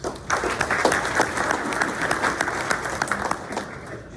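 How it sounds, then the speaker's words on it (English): Audience applause at a community event in Corona honoring police and fire, steady crowd clapping of moderate loudness that starts abruptly and continues evenly. "Let's give her a round of applause."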